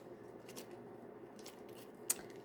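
A pair of scissors snips paper up close, with a few soft, separate cuts followed by one sharper, louder snip near the end, in a quiet room.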